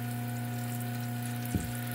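Water running onto the wheel of a homemade cabbing machine, a steady splashing hiss over the machine's constant motor hum, with a brief louder gush near the end; no one speaks.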